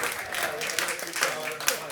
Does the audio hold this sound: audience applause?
yes